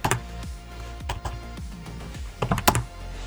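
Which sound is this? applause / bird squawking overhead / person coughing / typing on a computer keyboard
typing on a computer keyboard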